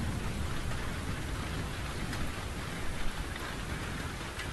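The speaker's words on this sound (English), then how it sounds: "Could I persuade you to come out of the rain, Flora?" Steady rain pours throughout a scene in the Victorian-era mystery game The Invisible Hours, a dense, even hiss of falling water that holds at a constant level with no voices over it.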